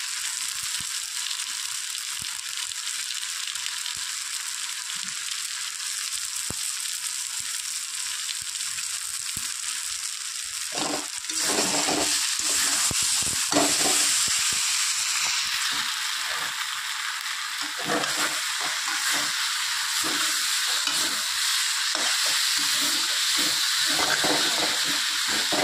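Spice paste with ground cumin and chili powder sizzles and hisses steadily in a pan for a fish curry, growing louder and more crackly partway through, with faint scraping as it is cooked down.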